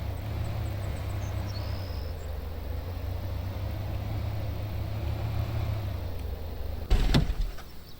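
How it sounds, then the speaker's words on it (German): A car engine in Thief Simulator drones loudly and steadily at a low pitch, a constant hum with a faint high whine early on, broken near the end by one sharp thump. "Aber der Motor ist schon verdammt laut von dem Auto, ne?"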